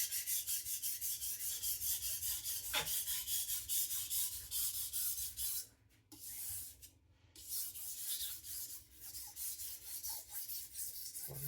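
A knife blade rubs in steady, rhythmic strokes across an Atoma diamond plate while a micro bevel is put on the edge, a close dry rasp repeating for most of the span with a short pause midway.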